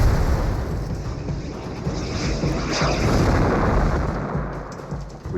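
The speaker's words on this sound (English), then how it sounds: "and again the explosion." A rocket explosion during a World War II tank battle in the Hochwald forest, heard as a loud, sustained, rumbling blast that swells and lingers with heavy low roar.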